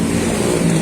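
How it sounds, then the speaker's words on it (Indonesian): A Sinar Jaya bus passes along a road in Wonosobo, its engine a loud, steady roar held close throughout the brief moment. "ini ada bis Sinar Jaya"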